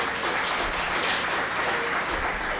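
A crowd at a chef showdown event applauds, a soft, even wash of many hands clapping heard from some distance and sustained for a few seconds.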